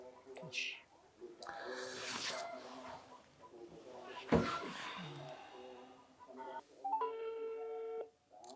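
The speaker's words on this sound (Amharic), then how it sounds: "ይጠራል ስልኩ።" A phone rings out on an outgoing call, with repeated tonal ringback bursts and a beep in between, under and between a person's speech.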